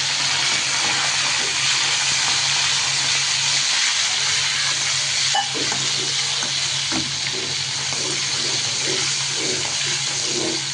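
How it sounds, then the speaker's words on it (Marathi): Prawns frying in hot oil in a wok, a dense, loud, continuous hiss of sizzling that runs throughout with faint stirring scrapes and small pops, and no voices. "तेल चांगले गरम झाल्यानंतर त्याच्यामध्ये आपल्याला आता कोळंबी ही तळून घ्यायची आहे"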